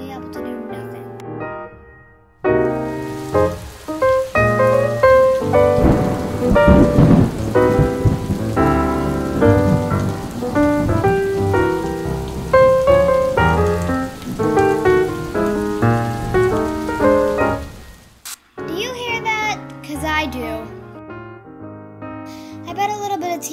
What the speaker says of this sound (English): Nothing but thunder and rain for weeks, Jeff.